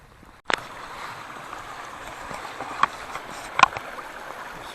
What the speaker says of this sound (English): I hear what sounds like a bit of a waterfall.